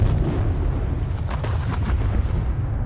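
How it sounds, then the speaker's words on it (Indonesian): A film explosion blasts apart a large boulder, heard as a loud sustained low rumbling roar with debris crackle throughout. "para pekerja meledakkan sebuah bongkahan batu besar yang mengganggu pekerjaan mereka"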